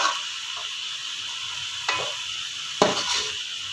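Onions sizzle in hot oil in a pan for a keema matar curry, a steady close hiss with a couple of sharper scrapes of a stirring spoon.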